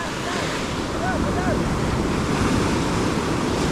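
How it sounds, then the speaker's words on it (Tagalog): Ocean surf rolls in wave after wave, a steady broadband roar with gusty wind buffeting the microphone, close and continuous for the whole stretch. "Ay, sunod-sunod ang dating ng alon niyo."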